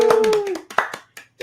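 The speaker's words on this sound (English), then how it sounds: "Give a round of applause for the Big Grizz." A few people clapping for a podcast guest in a small studio room, a short burst of close, sparse hand claps that trails off into scattered single claps, with a voice briefly heard over the start.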